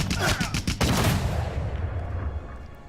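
Cannon and gunfire combat in the strategy game Civilization 6: a rapid volley of loud booming shots in the first second, then a rumbling decay fading out.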